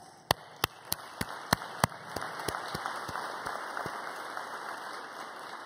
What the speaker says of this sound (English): All of you in this room who are involved should give yourselves a big round of applause